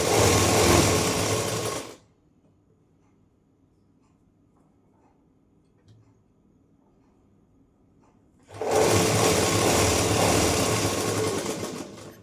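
An electric sewing machine stitches a blouse in two loud, close bursts of steady whirring, separated by several seconds of near silence before the motor starts up again.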